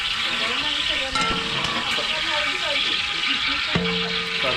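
Biriyani masala with cinnamon and cloves sizzling in hot oil in a large wedding-catering pot, a steady dense frying hiss throughout with occasional stirring clinks, no talk.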